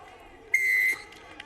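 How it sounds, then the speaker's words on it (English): Referee's whistle at an under-20 rugby union match between Spain and Ireland, one sharp sustained blast of about half a second with crowd murmur behind it. "I blew my whistle"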